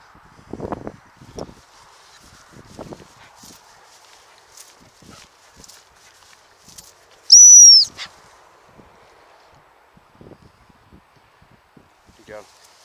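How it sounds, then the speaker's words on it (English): A gundog stop whistle gives one short, piercing blast during training outdoors. Around it come quiet footsteps, rustling and a few faint voice sounds. "Now what I'm doing is I'm blowing the whistle"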